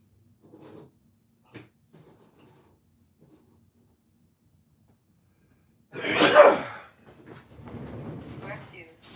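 A single loud, close sneeze bursts out in a quiet room after some faint rustling, followed by people talking.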